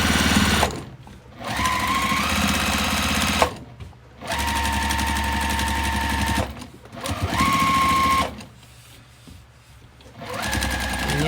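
A sewing machine quilting a tote bag, stitching in the ditch in steady loud whirring bursts, stopping and restarting several times with brief quiet pauses between runs.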